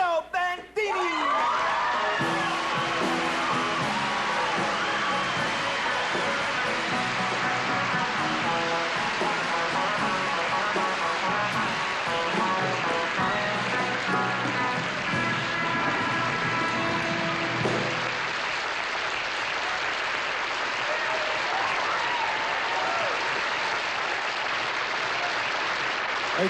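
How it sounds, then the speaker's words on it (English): A studio audience at a 1975 variety show breaks into loud, sustained applause with whoops and cheers, filling the room continuously for about eighteen seconds before thinning out, with music or voices carrying beneath it. "So let's bring him out with a big, big round of applause, ladies and gentlemen, Guido Bandini!"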